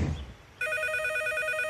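A cartoon telephone starts ringing after a brief noisy moment, a bright, repeating electronic trill that stays loud and continuous to the end.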